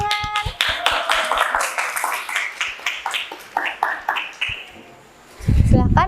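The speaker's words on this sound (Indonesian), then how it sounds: "Beri tepuk tangan." A classroom of students applauds after a group presentation, a few sharp individual claps growing into scattered, uneven clapping that fades out before a louder rustling burst of movement at the end.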